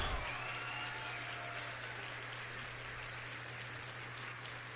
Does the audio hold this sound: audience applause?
yes